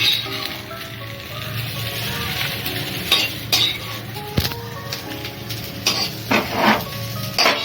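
Lump asafoetida dry roasting in a pan for idli podi masala, heard as continuous stirring and scraping with light metallic clinks and a soft background hiss, no voices.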